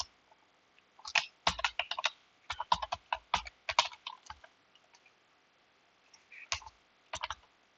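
A project name is typed on a computer keyboard, with bursts of quick close key clicks in an irregular rhythm, pausing before a final short run of taps.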